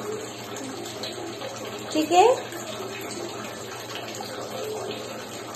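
Water runs steadily from a household tap while washing up, a constant close hiss throughout, with a child's brief spoken words over it.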